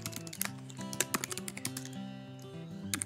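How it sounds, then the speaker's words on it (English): Keystrokes on a computer keyboard typing in a class name, a quick irregular run of close, crisp clicks over faint background music. "So for example, I am going to type in"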